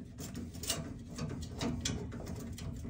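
A socket wrench loosens a nut on a sauna heater element, giving close, quiet, repeated ratcheting clicks in a steady series over a low background hum.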